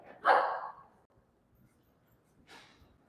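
A dog gives one short, breathy bark or snort up close, followed by a fainter second puff a couple of seconds later, in a quiet indoor greeting.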